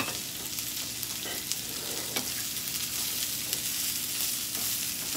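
Rice and onion frying in a pan for red rice with vegetables, a steady close sizzle with occasional stirring scrapes and clicks, no talking.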